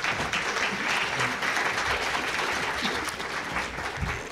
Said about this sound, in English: I'd also ask that you give the speakers a round of applause,